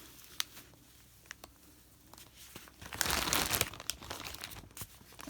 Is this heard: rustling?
yes